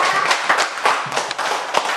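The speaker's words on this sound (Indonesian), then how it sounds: "tepuk tangan untuk kelompok 2" Pupils in a classroom clap for a group, a loud, close patter of irregular hand claps that runs continuously for about two seconds.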